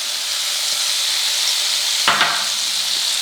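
Flour and margarine cooking together in a pan into a quick roux, a steady bright sizzling hiss with a brief stirring scrape partway through, with no voices.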